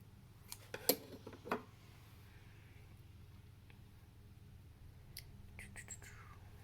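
Scissors snip false eyelashes in a quiet close-up setting, a few crisp little clicks near the start followed by faint rustling and small taps, soft and intimate with no talk.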